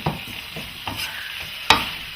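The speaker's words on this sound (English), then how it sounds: "And then we're going to saute." Diced turkey breast and vegetables sizzle steadily while sauteing in a pot, a continuous frying hiss broken by a few stirring scrapes and one sharp utensil knock.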